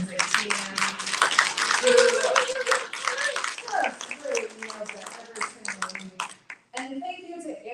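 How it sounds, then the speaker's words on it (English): Church congregation applauding its music team, a dense patter of hand claps running for several seconds with voices and cheering mixed in, then thinning out as a speaker talks near the end. "Can we have a round of applause for our music team?"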